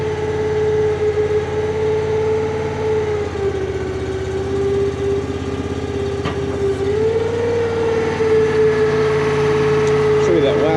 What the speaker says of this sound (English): Just trying to give the engine time to warm up before I throttle it up the rest of the way to run the saw down.